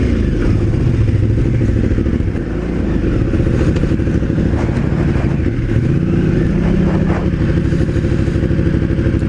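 A Honda Africa Twin or KTM 990 adventure motorcycle on Heidenau K60 Scout tires ploughs through deep sand, its engine a loud, close, continuous drone with rough clattering throughout and no speech.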